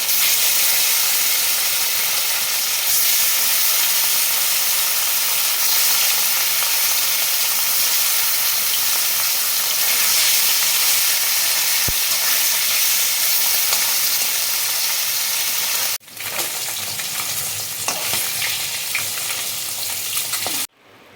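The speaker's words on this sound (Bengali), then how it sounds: "মাছটা আমার ফ্রাই করা হয়ে গেছে" Pieces of katla fish frying in hot oil, a loud, steady sizzle and hiss that runs unbroken for most of the stretch, dips briefly, then returns before cutting off; no voices.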